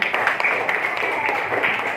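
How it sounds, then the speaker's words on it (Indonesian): A school class claps hands in a short burst of steady, crowded clapping, fairly loud and close, with a voice faintly underneath. "Oke, tepuk tangan dulu semua ya."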